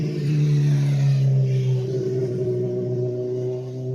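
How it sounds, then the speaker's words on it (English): A Pontiac GTO rolls past on the street, its engine a low, steady droning rumble with a smooth tone that holds loud and near for several seconds before easing slightly as it moves on. "There's a nice little GTO going down the street."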